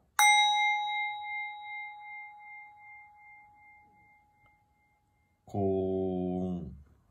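A single struck 8 cm singing bowl rings out with a clear, high tone that slowly fades over several seconds, followed by a brief spoken voice.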